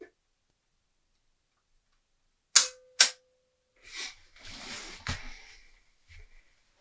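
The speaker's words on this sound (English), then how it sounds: "What I'm going to do again is to focus and then" An instant film camera fires its shutter, two sharp mechanical clicks in quick succession in a quiet room, followed by softer handling and rustling sounds.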